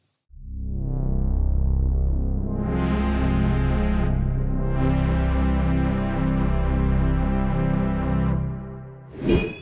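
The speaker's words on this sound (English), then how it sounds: "That's the fire alarm, Keith." A loud, steady electronic fire alarm tone with rich harmonics sounds continuously for about nine seconds during a scheduled test, then cuts off abruptly with a brief final burst.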